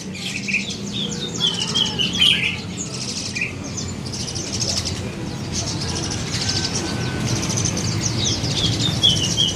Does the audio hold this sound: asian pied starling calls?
yes